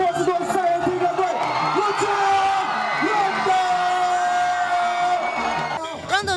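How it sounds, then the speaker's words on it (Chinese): A large outdoor crowd at an evening basketball game near Chiang Kai-shek Memorial Hall screams, whoops and cheers as NBA Boston Celtics point guard Rajon Rondo arrives, a loud continuous roar with shrill yells rising over it. "忽然现场观众尖叫声四起"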